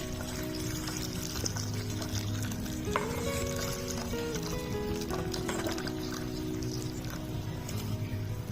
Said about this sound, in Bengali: দিয়ে দেবো সামান্য নুন, অল্প গরম জল করে নিয়েছি, দিয়ে দেবো সয়াবিনের মধ্যে।